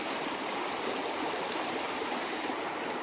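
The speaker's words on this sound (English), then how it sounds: "let's go down and have a quick look at the creek and see how that's looking after all this additional rain we've had" A creek swollen by heavy rain flows past a rural fire break crossing, making a loud, even rushing wash of water close by with no voices.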